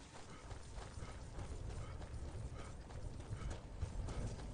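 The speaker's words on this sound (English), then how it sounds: "Follow the horse!" Hoofbeats of Arvak, the summoned spectral horse in the Skyrim video game, a quiet, rapid run of clip-clopping steps carrying on through the whole stretch with no voices over it.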